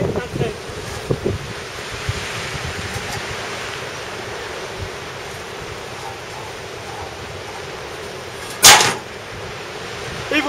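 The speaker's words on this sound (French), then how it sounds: "il y a du vent, alors désolé pour le son." Buffeting wind noise rumbles across the microphone outdoors throughout, low and continuous, with a sharp gusty burst near the end; no one speaks.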